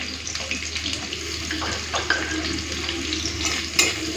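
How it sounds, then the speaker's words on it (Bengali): Chopped onion and garlic frying lightly in hot oil in a pan with whole shrimp, a steady sizzle with stirring scrapes and occasional louder clatters and spits, close and fairly loud. "হালকা একটুখানি ভেজে নিই তারপরে চিংড়ি মাছটা দিয়ে দেবো"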